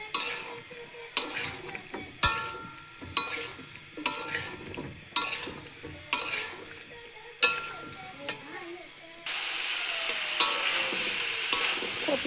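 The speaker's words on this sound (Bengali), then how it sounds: "ফুলকপিটাকে আমি একটু ভালো করে কষিয়ে নেব" Cauliflower stir-frying with potatoes in a pan, with repeated bursts of spatula scraping and clinks against the pan over a steady sizzle that grows louder and continuous near the end.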